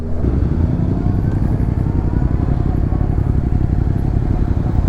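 A motorcycle engine roars loud and close on a road trip in the Jura as the throttle is twisted. It gives a thick, continuous low rumble with rapid firing pulses.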